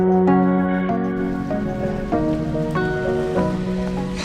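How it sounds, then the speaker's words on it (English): Heavy rain pours down steadily during a solo bikepacking trip from the Netherlands, close and dense with scattered louder drips and taps on nearby surfaces. "It's raining a lot, like"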